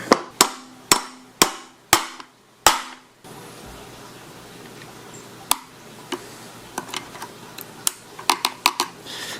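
A hammer taps a universal joint into the driveshaft yoke of a Toyota Tundra or Tacoma: six sharp metallic knocks in steady rhythm, a quieter pause, then lighter scattered taps and clicks close by.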